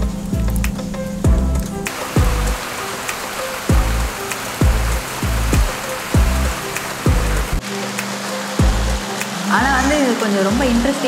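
Rain falls steadily during an outdoor Navarathri festival event, a constant hiss beneath loud rhythmic music with heavy beats, and a voice comes in near the end.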